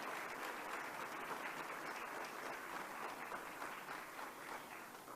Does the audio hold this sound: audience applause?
yes